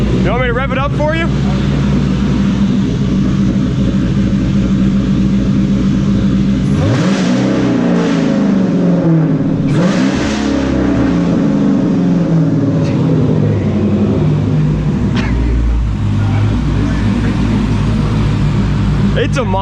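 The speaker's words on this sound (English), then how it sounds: "You want me to rev it up for you?" A modified car with its original mufflers removed and a loud exhaust revs repeatedly, with several sharp throttle blips that rise and fall in pitch over a steady idle rumble. People talk nearby.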